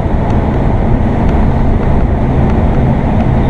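Steady, loud wind buffeting the microphone with a low rumble throughout, like air rushing past a moving vehicle.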